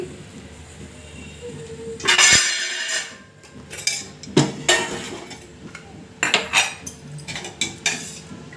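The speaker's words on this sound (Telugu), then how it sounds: "ముందుగా గ్యాస్ ఆన్ చేసుకొని ఒక బాండీ పెట్టుకోండి" A kadai (wok) is set down on a gas stove, with a series of loud metallic clanks and scrapes in irregular bursts close by, and quiet gaps between them.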